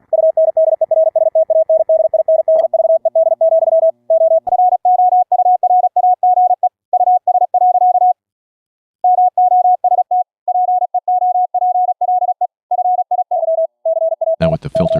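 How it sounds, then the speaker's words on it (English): Steady Morse code tones from radio channels beep in quick keyed bursts of dots and dashes at a single pitch, loud and clean with short gaps between groups. "listen to some of their Morse code in these channels"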